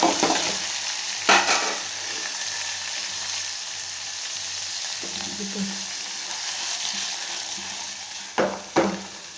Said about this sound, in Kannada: ಈಗ ಒಗ್ಗರಣೆಗೂ ನೀರುಳ್ಳಿ ಹಾಕ್ತಿದ್ವಿ